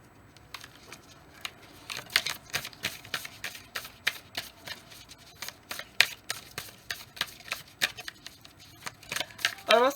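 Oracle cards shuffled and drawn, a rapid run of crisp papery flicks and riffles, close and fairly quiet, ending in a brief flurry of slaps.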